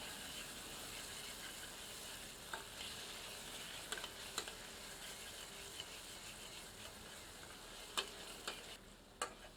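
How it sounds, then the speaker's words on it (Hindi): A ladle stirs tomato masala for chole in a pot, a faint, low sizzle with occasional scrapes and clinks, quiet and close throughout. "4 मिनट बाद एक बार अच्छे से करछी चलाते हैं।"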